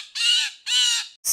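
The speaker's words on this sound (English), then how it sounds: "B is for blue jay." A blue jay gives two loud, harsh, raspy calls close up, each about a third of a second long, separated by a short silence, and a third call begins just as the sound ends.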